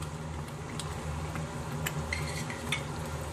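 Thick rice pudding kheer simmering in a pot with sugar and cardamom powder, stirred with a spoon; soft, close bubbling and scraping with occasional light clinks against the pot, fairly quiet and without talk.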